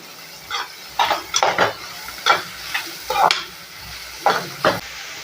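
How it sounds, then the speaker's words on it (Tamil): Onions sautéing in a pan for an eggplant and black chickpea curry, with a steady low sizzle and about eight sharp scraping stirs of a spoon against the pan, close and clear. "இப்போ நல்லா வதக்கி விட்டுக்கோங்க ஓரளவுக்கு நல்ல நிறம் மாறட்டும்"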